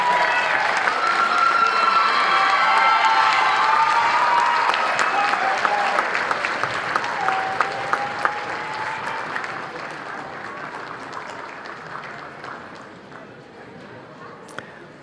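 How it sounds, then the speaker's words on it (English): A concert audience applauds the senior class of a marching band, dense sustained clapping that gradually fades toward the end, with a few voices and cheers mixed in. "Let's get a nice round of applause for our senior class."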